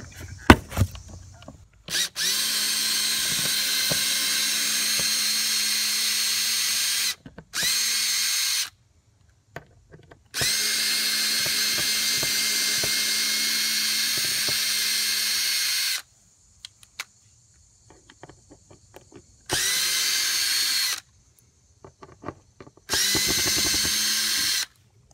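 Cordless drill backing out four screws from a Furrion stainless steel TV inlet, several sustained high whining bursts of a few seconds each separated by short pauses, close and loud with no talking.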